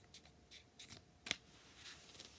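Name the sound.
shuffling playing cards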